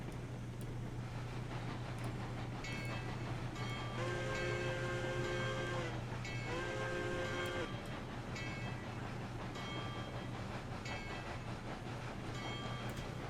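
A train in Railroads Online rolls slowly into the station with a steady low rumble, and wheel squeals or a whistle-like tone rise twice over it, heard alone at a moderate level.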